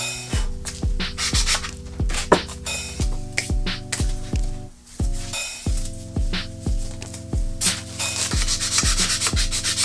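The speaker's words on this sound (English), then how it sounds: "So I'm sanding with gloves on just because I'm sanding by hand" Wood being sanded by hand with gloved hands, producing steady rhythmic rasping strokes, each a short scratchy sweep, repeating about twice a second over soft background music.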